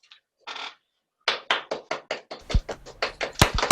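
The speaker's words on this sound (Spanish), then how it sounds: "Mira cómo te aplauden de las distintas ventanitas." A few participants in an online video call applaud from their separate windows: a couple of isolated claps, then a quick run of sharp handclaps that grows denser and slightly louder toward the end.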